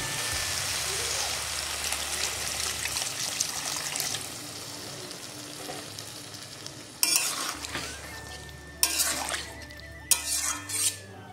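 Eggplant frying in a pan as a little water is poured in, with a sharp burst of sizzling and hissing steam that flares in several loud surges among quieter bubbling and stirring.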